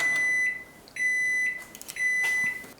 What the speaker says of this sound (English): And then a further beeping when the cooking is finished.